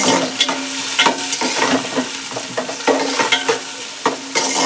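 Onions and green chillies fry in a hot pan, a steady close sizzle broken by repeated scraping strokes of a spoon stirring them.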